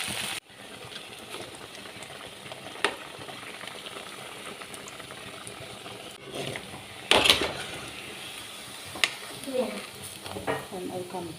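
Rava vada batter made from leftover upma deep-frying in hot oil, a steady close sizzle with stirring and a few louder splashes and bursts as pieces drop in, no talk heard.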